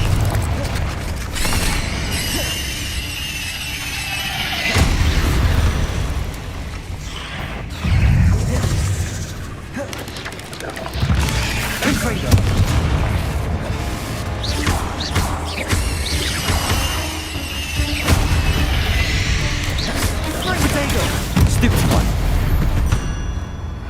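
Fiery Confringo spell blasts in Hogwarts Legacy burst repeatedly during a fight, heavy booming crashes layered with magical whooshes and game music, with someone talking over much of the action.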